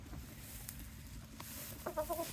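Chickens in a homestead coop give a few soft clucks near the end of a quiet, faint stretch of background noise.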